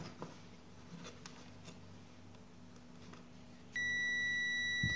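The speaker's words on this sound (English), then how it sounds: "Set my multimeter to continuity test." A multimeter set to continuity test on a studio monitor's dead left speaker channel board gives a sudden steady electronic beep partway through, loud and continuous after a quiet stretch with faint ticking and low hum.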